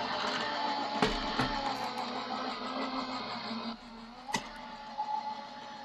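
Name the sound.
die cut machine running card stock through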